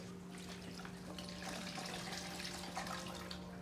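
Liquid is poured out of a bottle during a home fermentation setup, a faint continuous trickle and splash under a steady low hum, with no talking.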